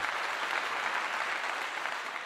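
Steady applause from a group of listeners at a talk, dense and sustained throughout at a moderate level, with no voices over it.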